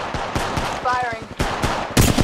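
Rapid automatic gunfire bursts crack repeatedly in Apex Legends Mobile, loud and close, with brief pauses between volleys and a short electronic tone in the middle.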